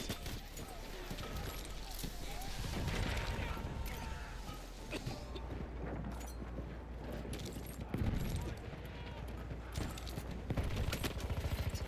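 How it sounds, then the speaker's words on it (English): Rapid machine gun fire and scattered gunshots from a Battlefield 1 battle crackle densely in the background, with a voice talking over the din. "Machine gun. Over there."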